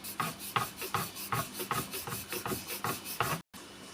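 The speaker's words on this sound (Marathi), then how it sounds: "हे चपातीचा हुंडा घेतलेला आहे मी आणि तो आपण लाटून घेणार आहोत" Chapati dough rolled out with a wooden rolling pin, giving a steady series of soft rubbing, rasping strokes about twice a second, close and moderately loud, with no talking.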